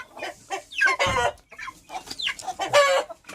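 Chickens cluck and call repeatedly at close range, loud and busy, with a young chick among the fowl on a farm, no speech heard.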